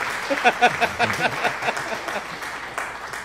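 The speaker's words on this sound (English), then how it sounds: "You got a bunch of applause." Canned applause from a soundboard plays at moderate level, a patter of many claps that rises and then thins out, with a voice talking over part of it.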